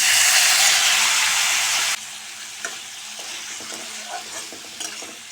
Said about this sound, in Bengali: জিরা গুঁড়ো, লঙ্কা গুঁড়ো দিয়ে এবার মশলা কষে নেব।